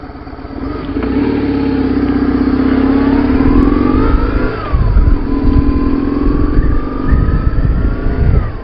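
A motorcycle rides along a road on a group ride, the engine loud and close with steady droning, rising through gears and dipping at shifts amid wind rumble.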